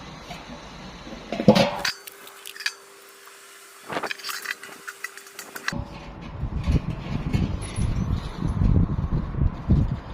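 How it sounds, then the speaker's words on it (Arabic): Clinks and knocks of metal parts as the LNB lens is fitted and assembled on a satellite dish, with a few sharp taps, a quiet stretch, then rustling handling noise. "وهنا هنحط العدسة ونجمعها هنا"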